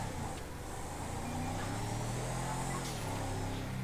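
Engine of a Crown Victoria police car in GTA, using the Buffalo engine sound, as a low steady drone that rises slightly in pitch as the car accelerates, continuous and fairly quiet, with no talk over it.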